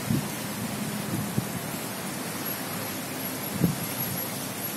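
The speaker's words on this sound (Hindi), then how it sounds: "खूब तेज बारिश आ रही है।" Heavy rain falls steadily as a dense, even hiss, with a couple of faint low thumps rising briefly above the wash of noise and no voices.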